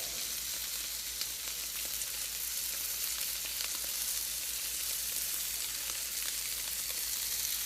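A cheeseburger patty fries in a pan, giving a steady, soft sizzle with crackling spatter that runs evenly throughout without talk.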